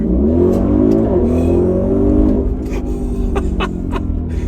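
A 2020 Audi RSQ8 sports SUV engine revs up and accelerates, a loud, smooth rising growl that swells and then settles into a steady drone, with no talking.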